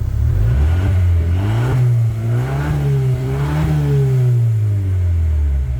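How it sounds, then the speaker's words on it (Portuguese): Fiat Pulse Abarth with its 1.3 turbo engine revving loudly through a tuned exhaust up close, its deep droning note climbing and falling in a couple of smooth swells with no talk over it. "algo muito interessante que a gente tem para falar nesse momento é do ronco dessa motorização"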